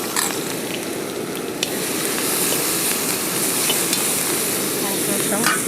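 Ginger and garlic sizzling in hot oil in a pan, a steady loud frying hiss with occasional stirring scrapes throughout.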